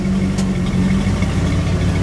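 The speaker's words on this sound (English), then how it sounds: "You can just hear this motor humming." A 1995 Ford F-150 with a 351 V8 idles smoothly and steadily, its low, even rumble loud and close with no ticking or hesitation and no voices.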